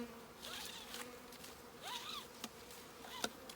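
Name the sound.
honeybee swarm being put into a nucleus hive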